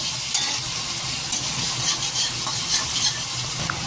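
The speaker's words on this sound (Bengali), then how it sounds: "এবার এটাকে একটু ভাজবো। পেঁয়াজ কুচিটাকে ভাজবো।" Chopped onion frying in a pan, a loud, close, continuous sizzle and crackle with occasional stirring scrapes and no talking.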